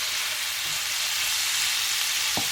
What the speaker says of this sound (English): take the steak and add it back to the pan and toss it in amongst that garlic butter